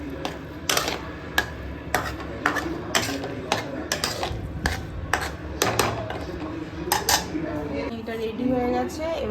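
Spoon or ladle scraping and clinking against a pot while stirring a mixture of grated garlic, tomato and onion, in repeated sharp metallic knocks over steady background noise, with a voice briefly heard.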